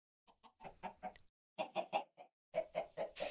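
Chicken clucking in the video game Chicken Block comes as three quick bursts of rapid, rhythmic clucks, each run of four to five notes separated by brief silences, clean and close.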